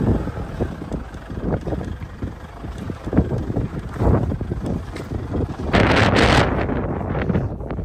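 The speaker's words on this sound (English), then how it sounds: "It is hellish windy though" Strong wind buffets the microphone in a field being ploughed for spring beans, with loud rumbling gusts rising into a harsh roar near the end.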